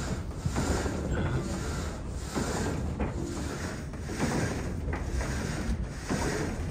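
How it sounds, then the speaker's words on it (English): Wooden saw frames in a windmill-driven sawmill at Zaanse Schans, worked by a crankshaft, rumble and creak in a steady loud mechanical churn with rhythmic knocks roughly every second, under outdoor wind noise. "So there is always one saw frame going down and lifting the other one up."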